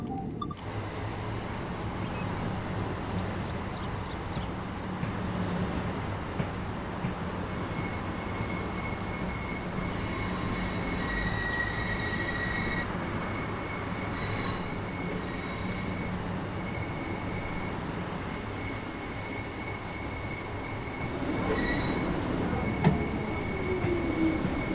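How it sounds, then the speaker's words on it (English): Electric train in Train Sim World 2020 pulling into a station on the East Coastway Brighton to Lewes line, with a steady rumble of wheels on rails, long squealing tones and a brief whine near the end, heard close with no talking. "we're coming into the station now at the speed"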